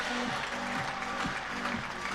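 Crowd at a T20 cricket match between Leicestershire Foxes and Nottingham Outlaws applauding a boundary four, a steady wash of clapping with a repeating mechanical tone running underneath.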